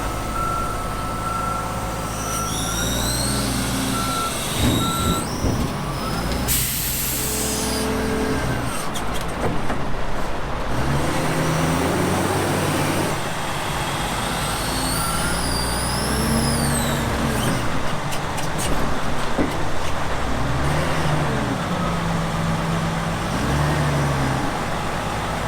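Heavy vehicle engine rumbling nearby with steady reversing beeps and a hiss of air brakes amid continuous road noise.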